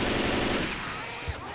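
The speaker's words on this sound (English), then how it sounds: "Quick, shoot around the zombie." Gunfire in the co-op zombie game Left 4 Dead 2, with a loud dense burst of rapid shots that fades after about half a second, followed by a brief thump.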